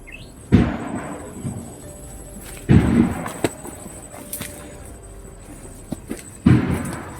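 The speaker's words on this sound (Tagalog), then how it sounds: "Ano yung paputok na yun, bro? Sobrang lakas ng putok." Three loud, sharp firework blasts ring out at intervals of about two to three seconds, each a booming crack followed by a brief echoing rumble, with quieter pops between them.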